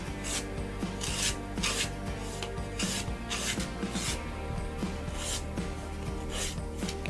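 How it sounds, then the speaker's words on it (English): An emery board files a natural fingernail in quick repeated rasping strokes, close and soft, with a steady back-and-forth rhythm and no talking. "it's also very important to use an emery board because it's going to be very gentle, not too gritty"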